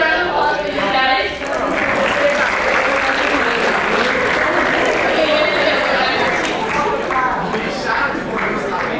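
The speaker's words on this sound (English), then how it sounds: "give a round of applause for these guys" An audience at a youth leadership summit breaks into sustained clapping that fills the room, loud and steady for several seconds, with voices and chatter mixed in underneath.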